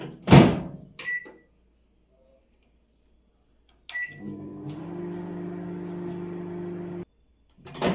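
Microwave oven drying leaves on a plate: a door clunk and a short click, a pause, then a steady low motor hum runs for about three seconds and stops before the door opens again.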